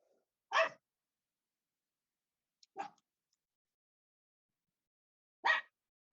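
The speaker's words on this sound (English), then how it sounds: "Sorry, that's my dog." A pet dog barks three times, isolated single barks spaced a couple of seconds apart over silence, fairly close and moderately loud.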